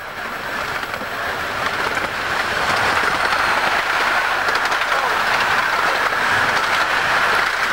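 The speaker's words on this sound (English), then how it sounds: "that was the double-headed train that was in the station when we left" On the Romney, Hythe & Dymchurch miniature railway, a double-headed steam train rolls past with a steady loud rumble and rattling wheel noise that builds slightly, a voice faintly underneath.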